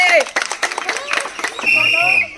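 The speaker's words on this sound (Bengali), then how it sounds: "সবাই হাততালি।" Brief scattered hand clapping at a children's game after a toy car pops a balloon, mixed with lively voices talking over it.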